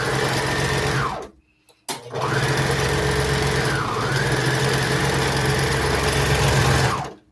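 A serger sewing machine stitching the seam of a garment, whirring steadily and close, with a brief pause near the start before the motor runs again and winds down at the end.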